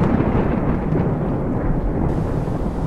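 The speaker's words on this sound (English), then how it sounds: "Then, the thunderstorm hit." Thunder from a heavy thunderstorm with rain rolls in a deep, continuous rumble, loud and steady throughout with no voices.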